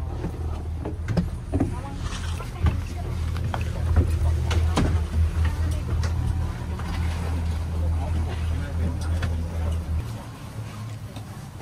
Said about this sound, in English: Are you happy on the speedboat now?